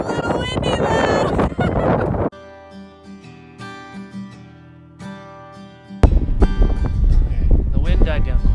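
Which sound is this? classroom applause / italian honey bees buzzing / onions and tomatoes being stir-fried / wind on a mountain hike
wind on a mountain hike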